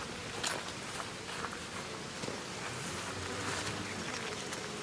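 Bees buzzing in a dense, steady drone all around, with faint footsteps and rustling mixed into the constant hum.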